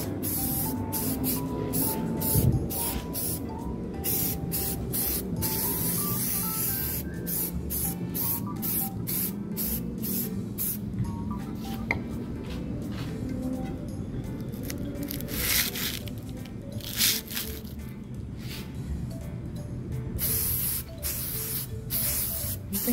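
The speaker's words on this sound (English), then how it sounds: "once the two coats of the white spray paint has dried" Gloss white spray paint hisses onto glass bottles in a long series of short and longer bursts, each separated by brief pauses, loud and close.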